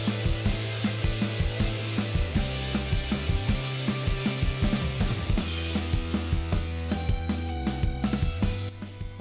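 Rotary tool with a burr engraving and shading a Yeti tumbler, a close, whirring grind broken by rapid ticking, chattering contacts as the metal cup is worked.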